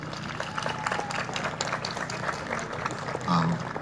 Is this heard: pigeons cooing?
no